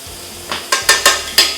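Scallops searing in a hot pan, with soft frying hiss beneath four or five crisp, evenly spaced metallic scrapes and taps of a utensil against the pan, close and distinct.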